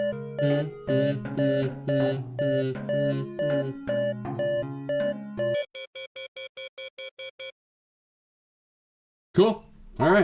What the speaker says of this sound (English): Ear warning, it's gonna beep at us